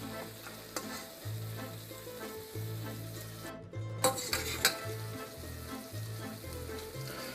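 Potaje is stirred in a pot with onion and butter, a steady frying sizzle overlaid by repeated scraping strokes of a spoon, with a few sharper clinks against the pot partway through.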